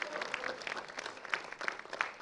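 An audience at an award ceremony applauds a company chairman receiving an honour, a faint, steady wash of many hands clapping with scattered sharper claps standing out.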